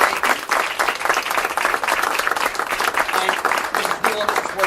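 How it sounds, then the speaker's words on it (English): Audience applause for students at a school board of education meeting, dense steady clapping throughout with a voice speaking over it. "Have another round of applause for our students."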